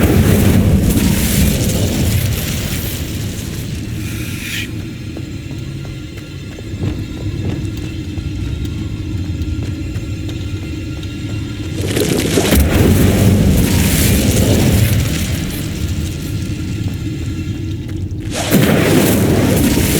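The Incendio fire spell cast in Hogwarts Legacy, loud booming, rumbling bursts of flame that swell in several long waves, with a deep roar continuing underneath between them.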